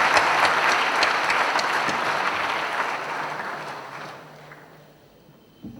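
Seminar audience in Patna applauds to welcome a guest speaker: a dense, steady wash of clapping from a large crowd that gradually thins and fades toward the end.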